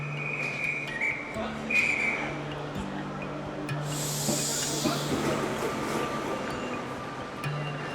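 A train whistle sounds in short high blasts over a rumbling, hissing engine, followed by a burst of steam as the train pulls away from London Paddington Station.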